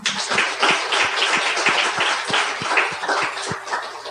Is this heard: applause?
yes